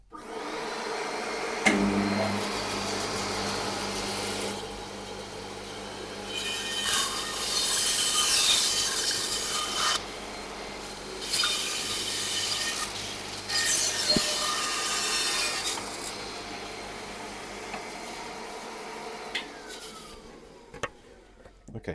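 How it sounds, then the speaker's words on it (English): A bandsaw cuts out the centre of a wood blank, a steady whirring motor hum with rough, rising buzzing passages as the blade bites into the wood, then easing off between cuts. "I'm now going to cut out this centre bit on the bandsaw."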